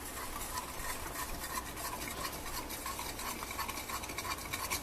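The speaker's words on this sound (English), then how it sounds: "let's actually whisk this up first, or try to at least" Half and half cream being whisked into a brown butter frosting for banana bars makes a quiet, steady scraping and stirring swish that runs on without pause.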